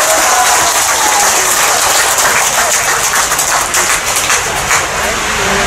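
A crowd of Korean community supporters applauds at a political rally, steady loud dense clapping filling the whole stretch with no voices over it.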